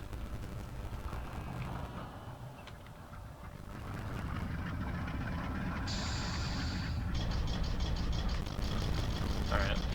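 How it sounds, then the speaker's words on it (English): In the Garry's Mod game, a locomotive air compressor kicks on over an idling engine rumble, adding a rising hiss and a rapid chugging pulse partway through, while a voice talks. "Usually once you hear the air compressor kick on, that means the locomotive is ready to go."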